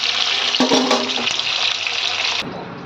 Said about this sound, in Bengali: এইভাবে পটলটাকে লাল লাল করে একটু ভেজে তুলে নেব।